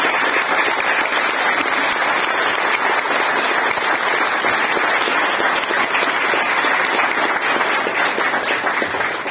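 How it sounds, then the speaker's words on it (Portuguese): An audience at a festive gathering gives sustained, dense applause that stays loud and even throughout, with a faint voice underneath. "Eu queria uma salva de palmas para esse grupo todo aqui"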